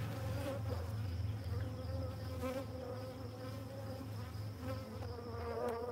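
Honey bees drone steadily at an open hive during a brood inspection, a dense, continuous buzz close by with no talk over it.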